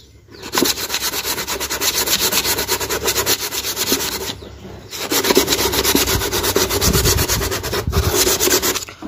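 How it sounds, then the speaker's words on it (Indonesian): Steady abrasive rubbing of sandpaper on the inside of a hard plastic bucket, in two long sustained passes with a brief pause between, close and fairly loud. "dari dalam pun juga kita amplas teman-teman ya"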